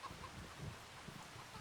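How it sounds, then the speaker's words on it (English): Chickens in a farming video game clucking softly, a few short scattered clucks over a low, steady ambient background, faint and without speech. "you can see all of the chickens that we have"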